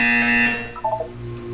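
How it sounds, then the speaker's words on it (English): A buzzer sounds in the video game Portal 2, a harsh steady electronic drone that fades after about half a second, followed by a short flurry of softer electronic tones. "You will hear a buzzer."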